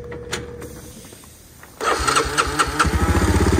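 A Honda XR650L trike engine cranks briefly, then catches and settles into a loud, close, rapid thumping idle that grows steadier toward the end.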